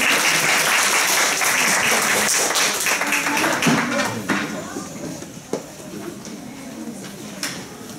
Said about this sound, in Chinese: 好，我们请肖玉茹，请给他掌声鼓励